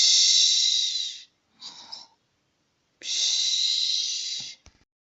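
A voice imitating a sleeping witch's snoring: two long breathy hissing snores separated by a short snort-like breath, close and alone.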